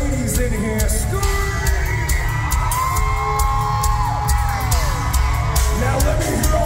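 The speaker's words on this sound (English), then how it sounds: "I wanna hear all the ladies in here scream." Screaming and whooping from a concert crowd of women at a metal show at Wind Creek Event Center in Bethlehem, PA, a loud sustained wall of cheering with dense high-pitched yells throughout.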